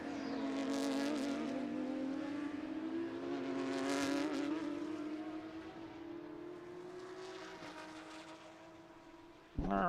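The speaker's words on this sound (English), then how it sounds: "There's a Cayman coming through one, and there's that Lambo." Race cars, a Porsche Cayman and a Lamborghini, roar past at Sebring during a live racing event, loud engines rising and falling as they pass, with a commentator talking over the track noise.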